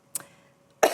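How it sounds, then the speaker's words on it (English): A woman with a bad cough coughs twice during a talk, a short sharp burst followed by a louder, harsher cough close to the microphone. "Apologies, I've got a terrible cough."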